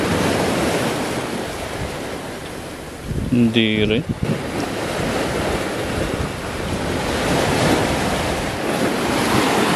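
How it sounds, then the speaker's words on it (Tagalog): Strong ocean waves break and wash continuously on Seven Mile Beach in the Cayman Islands, with wind buffeting the microphone and a brief spoken phrase partway through. "lakas na ng alon eh"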